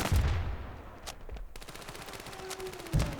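Gunfire in the mobile shooter Standoff 2 rings out in several sharp bursts of rapid shots, close and loud, with brief gaps between volleys and no talking.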